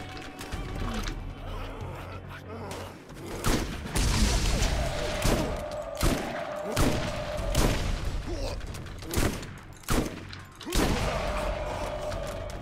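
Shotgun fire in the Borderlands video game: a run of loud, booming blasts at irregular intervals, about eight to ten shots, with clattering mechanical game effects between them.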